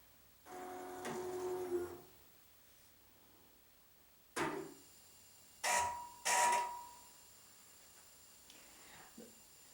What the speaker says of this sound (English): And then I will press pull bobbin.